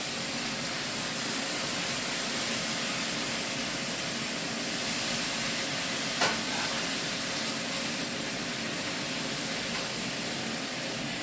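Seasoned fish sizzles in a pan for brown stew fish, a steady even hiss of frying oil that runs unbroken with one brief sharp click midway, close and without voices.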